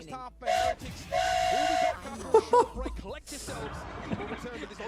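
Valorant train whistle blown a few times, short and long bright whistle blasts mixed with excited voices talking over them.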